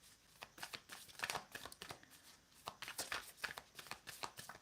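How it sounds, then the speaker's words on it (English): A deck of tarot cards being shuffled by hand, with rapid irregular riffling and flicking bursts continuing throughout, close and fairly quiet with no talking. "I'm just going to shuffle"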